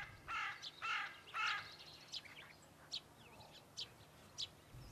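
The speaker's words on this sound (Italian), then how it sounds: "La cornacchia grigia è un animale furbissimo e adattabile" Hooded crow calling at a lake in a nature reserve, outdoors: a run of three loud, harsh caws up close, followed by several shorter, fainter calls spaced apart over steady low background noise.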